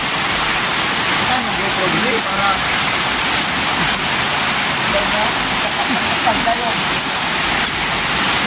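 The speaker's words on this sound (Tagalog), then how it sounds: "Malakas yung ulan." Heavy rain pours down in a steady, dense hiss that fills the whole stretch at high level, unbroken and constant without clear speech on top.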